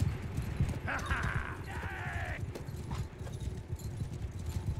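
Cavalry horses in Bannerlord battle, steady clip-clop of hooves under a busy battle din, with a short whinny early on.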